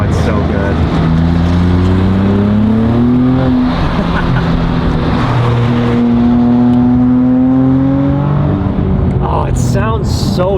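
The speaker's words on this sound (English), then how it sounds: "That MA Performance exhaust and downpipe setup is so nice." A loud car engine with an MA Performance exhaust and downpipe revs and drones through rising and falling pitch sweeps, a throaty exhaust note with a voice speaking over it near the end.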